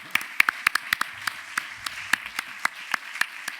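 Audience applause at an evening talk event on an island, a sparse, uneven patter of separate claps from a modest crowd, fairly close and steady throughout without speech.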